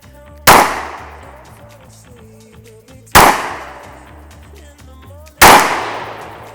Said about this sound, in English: let's go ahead and shoot it and see what we think